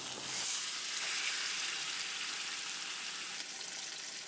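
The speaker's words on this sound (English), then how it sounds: "You want to sear the pork on each side." Pork searing in a hot pan, a soft steady hiss of sizzling fat, fairly quiet and close, with no talk over it.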